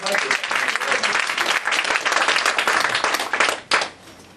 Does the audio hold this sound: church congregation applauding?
yes